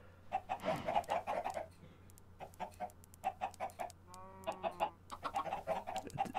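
A blocky video-game chicken in Minecraft clucks in repeated short bursts, close and fairly quiet, with brief pauses between the clucks.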